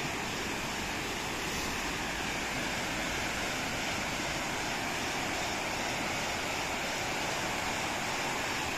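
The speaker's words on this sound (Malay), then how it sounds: "Deruan sungai." A dense, constant roar of the rushing Chor River beside a campsite in the early morning, loud and unbroken throughout, with no voices.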